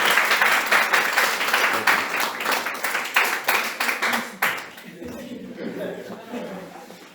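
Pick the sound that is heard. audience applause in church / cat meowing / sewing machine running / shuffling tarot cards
audience applause in church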